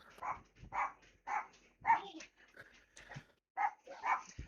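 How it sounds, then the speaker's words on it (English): Several excited dogs in a house bark and yip repeatedly in an uneven series of about seven bursts, faint and set back from the microphone, with no talking over them. "I apologize if y'all can hear the dogs in the background."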